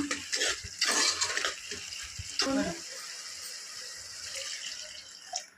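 Water pours and splashes into a metal pot of mutton curry for a few seconds, loud at first, then settles into a softer, steady trickle.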